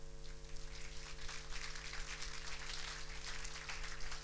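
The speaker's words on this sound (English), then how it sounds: "Your applause for Robert Taylor." Audience applause at an Internet Hall of Fame induction ceremony, honoring computing and networking pioneer Robert Taylor: steady, dense clapping at moderate level throughout, with a persistent low hum underneath and no talking.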